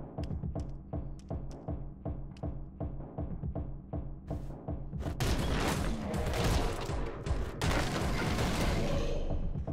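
Rapid bursts of gunfire in the video game Anger Foot crackle in a steady rhythm, then swell into a dense, continuous barrage of shots and booms.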